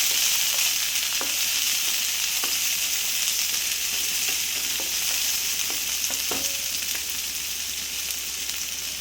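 Prawn masala with onions fries in a pan, a steady loud sizzle running throughout with occasional sharp clicks and scrapes of stirring, no voices.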